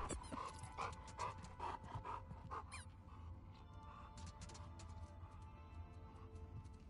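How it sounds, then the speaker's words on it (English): A dog pants rapidly in The Last of Us Part 2, quick rhythmic huffs in bursts over the first three seconds, then quieter breathing over soft game ambience. "Nope, I want to keep playing fetch with the dog."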